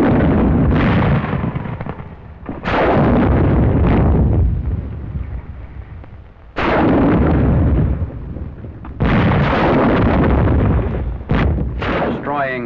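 Demolition charges of TNT set off in hillside caves, a series of heavy booming blasts with long rumbling decay, several spaced detonations across the clip, loud and close, with no talking.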